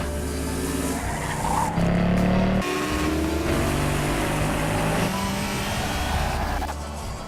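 Racing cars in the Drive Club video game roar past one after another, with loud engines rising and falling through gear changes and tires squealing, heard alone and close.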